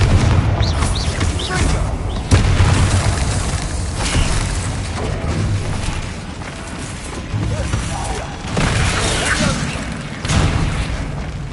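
Blasting-spell explosions in a Harry Potter video game: a dense run of heavy booms and crackling blasts, loud and close, with shouted voices mixed in.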